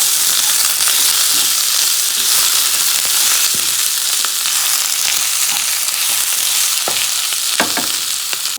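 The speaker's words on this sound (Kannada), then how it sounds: "ಸ್ವಲ್ಪ ಟೊಮೆಟೊನೂ ಹಾಕಿಬಿಟ್ಟು ಅದನ್ನು ಫ್ರೈ ಮಾಡ್ಕೋಬೇಕು" Tomato fries with black pepper masala in a pan for a river crab masala, giving a loud, continuous close sizzle broken by sharp pops and the scrape of stirring, with no talking.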